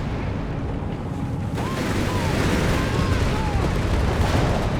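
A tank firing armor-piercing shells in the World War II strategy game Company of Heroes 3, with heavy booming blasts over a constant rumble of battle and a caster talking over it.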